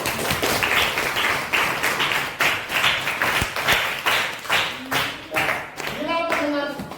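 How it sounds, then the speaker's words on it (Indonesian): A group of people at a school clap their hands together in repeated rhythmic bursts, close and lively, with short pauses between claps and a voice briefly heard near the end. "Tepuk tangan."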